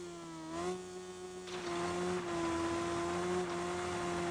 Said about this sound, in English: They're revving away!